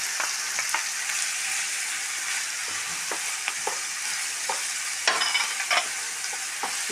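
Sliced onion frying with a little salt in a pan, a steady hiss of sizzling oil punctuated by frequent light stirring taps and scrapes, close up with no voices.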